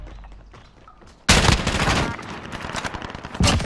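Video game gunfire erupts suddenly after a quiet stretch, loud rapid bursts of shots crackling in a dense fusillade, with a second sharp burst near the end.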